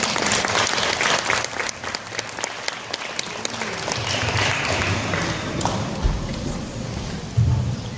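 An audience at a school event in Baja California gives steady, dense applause that holds throughout, with scattered noise from the crowd.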